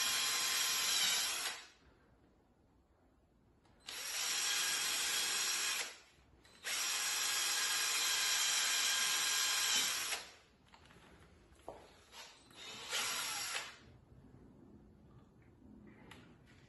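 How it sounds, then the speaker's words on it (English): A power drill drives screws into a wooden chair in three loud bursts, the middle one longest, followed by short spurts and quiet gaps. "Planning to do now is just put a couple of screws just to hold it in place."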